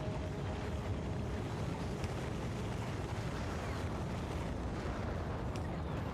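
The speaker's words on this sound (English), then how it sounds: "Rockets away!" Rocket launch in Factorio, a steady, loud roaring rumble like a powerful engine blast, sustained and unchanging over the whole stretch with no voices.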